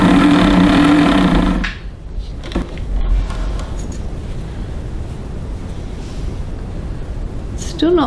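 An old Elna Special bargain sewing machine runs a rapid, loud stitching burst for under two seconds, then gives way to quieter background noise and a faint voice.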